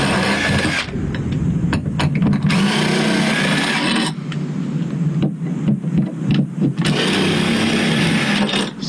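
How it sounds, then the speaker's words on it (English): A cordless drill with a 5/16 socket driving out the anchor bolts of an RV rooftop air conditioner, heard as loud bursts of high whirring that start and stop repeatedly, separated by short pauses. "this goes a lot quicker whenever you're using cordless drill."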